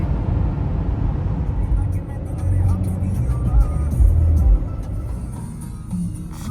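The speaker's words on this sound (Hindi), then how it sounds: "ट्रैफिक बहुत है यहाँ पे।" Heavy road traffic near Niagara Falls, a continuous low rumble of car and bus engines heard from inside a vehicle, with people talking over it.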